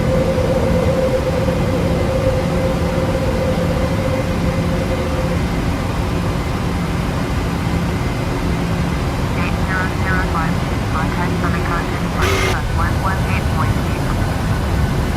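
A Ryanair PMDG 737 climbs out of Alicante in the FSX flight simulator, its steady, loud cockpit engine drone running unbroken throughout while a voice talks over it.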